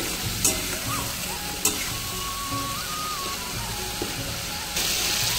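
Spice paste with salt sautéing in oil for a vegetarian yam curry, a continuous close sizzle with spatula scrapes and a couple of sharp knocks against the pan, growing brighter toward the end.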